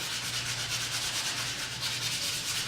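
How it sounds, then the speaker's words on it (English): Hand sanding car clear coat with 1500-grit sandpaper on a small rust repair, a steady close scratchy rubbing in quick back-and-forth strokes, continuous and even, with no voices. "And again, using 1500 sandpaper."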